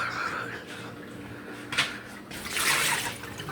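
Water splashes and trickles as it is poured into a bowl for pets, a brief burst near the middle and a longer wash of pouring toward the end, close and moderately loud against a quiet room.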